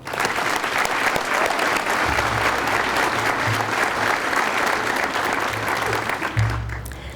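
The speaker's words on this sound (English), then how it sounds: "Please join me in another big round of applause for all of our guests." Sustained, loud applause from a large audience at an event honouring guests, including a retired brigadier general, a dense wash of clapping that continues throughout and tapers at the end.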